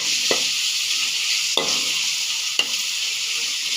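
Broccoli and bacon stir-fried in a pan, with a loud, steady hiss of sizzling oil throughout and three sharp clicks of the utensil against the pan, close up and with no talking.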